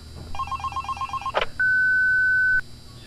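A telephone in the horror game Five Nights at Candy's gives a burst of rapid trilling rings and a short click, then a single sustained steady tone lasting about a second, loud and clear with no voices.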